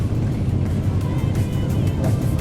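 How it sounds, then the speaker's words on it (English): Super Stock race cars at the Hawkes Bay Super Saloon Champs rumble steadily in the distance, a continuous low engine drone with broadband roar and no clear passes. "You can hear the rumble, and it's the rumble of Super Stocks."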